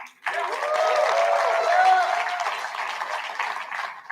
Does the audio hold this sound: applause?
yes